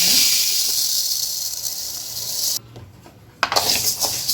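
Idli rice poured into a pan for dry roasting gives a close, loud hissing rush of grains that stops briefly, then resumes in a scattered sizzle and rattle.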